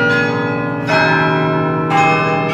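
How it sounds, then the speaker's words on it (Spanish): Large church bells in Ghent, Belgium ring out in slow, resonant strikes, about three peals with long humming decays, loud and close, no voices. "segunda oportunidad a las campanas de sonar"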